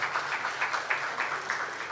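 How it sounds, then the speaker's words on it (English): Steady, fairly faint audience applause at a business townhall presentation, an even wash of many hands clapping with slight rhythmic swells and no talk. "please clap for them"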